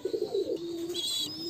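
Giribaz pigeon chicks at a pigeon farm, a short soft cooing pulse followed by a faint thin call, close and alone without talk.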